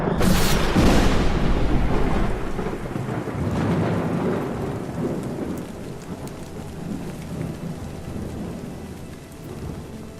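A thunderstorm gathers over chimpanzee habitat, a heavy thunderclap rolling loudly at the start and slowly decaying into steady rainfall pattering on surfaces, with further distant rumbles beneath.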